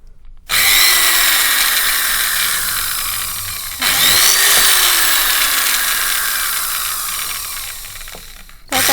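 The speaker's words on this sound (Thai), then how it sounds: "แล้วก็เจาะนะคะ ตามที่เรามาร์กไว้ค่ะ" A small power drill bores holes around a coconut shell, two loud, close bursts of high whirring with the pitch slowly sagging as the bit grinds through the hard shell.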